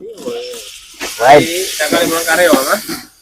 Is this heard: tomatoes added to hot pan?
yes